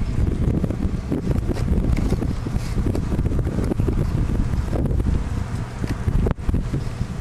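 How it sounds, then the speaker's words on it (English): Outdoor wind blowing into a microphone, a steady rumbling buffet that lasts the whole time with gusty swells, plus a brief sharp knock near the end. "Sorry if it's a little bit windy."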